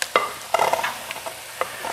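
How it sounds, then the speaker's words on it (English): Rice tipped into a hot frying pan with onions, hissing and sizzling while a utensil scrapes and stirs in quick irregular strokes, close and clear with no voices. "So let's dump the rice in."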